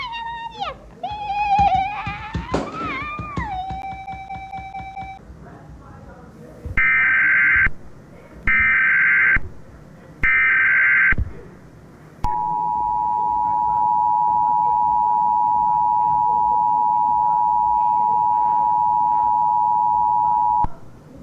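Emergency Alert System tones announced as from the Central Police of Ohio: a few sweeping electronic beeps, then three loud buzzing burst tones, then one long steady attention tone held to the end.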